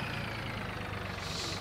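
A small tractor engine idles steadily in Farming Simulator 15, a low, even rumble with a slight rhythmic throb that holds throughout, and nothing else is heard.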